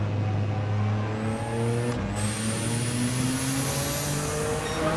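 A car engine revs hard in a racing video game, a droning, rising whine with gear-change dips and steady high pitch climbing across the clip.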